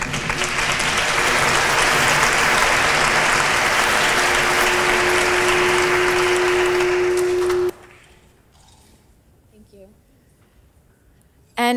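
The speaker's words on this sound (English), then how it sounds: "If we could please have one more round of applause for this." Loud, dense applause from a large audience at a dance conference honors ceremony, sustained for several seconds before cutting off sharply, followed by quiet room noise and a brief burst at the end.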